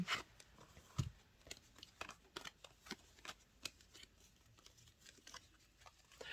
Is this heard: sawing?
no